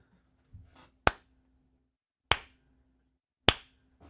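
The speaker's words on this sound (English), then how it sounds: "Give us one clap." Three sharp, isolated hand claps spaced about a second apart, loud and close in a quiet room, made as an audio sync test during a live stream.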